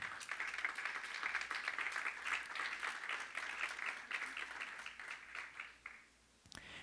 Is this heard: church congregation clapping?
yes